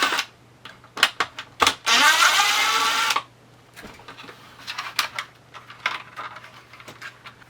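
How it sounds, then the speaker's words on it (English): Screws being backed out of an RV bathroom fan during a Vortex II fan installation, heard as short clicks, a sustained loud whirring burst of a few seconds, then scattered ticks and light handling noises close by. "Again, we're going to take these 2 screws out."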